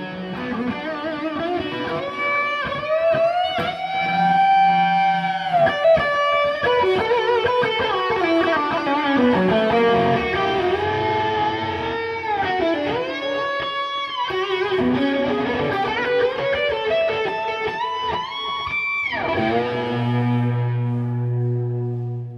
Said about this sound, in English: It's a complete distortion pedal, so I can I can have this this pedal in front of any amp